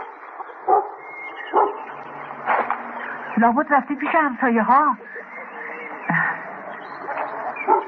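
A dog barks and yips in a short run of sharp, rising calls under and between people talking in Persian, with a radio-like quality to the sound.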